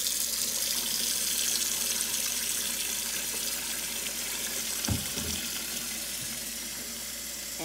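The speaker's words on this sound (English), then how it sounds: "I'm just gonna let that water run until it's on hot." Tap water runs steadily into a kitchen sink while baby bottles are prepared for sterilizing, a continuous close splashing hiss with a brief thump partway through, and no voices.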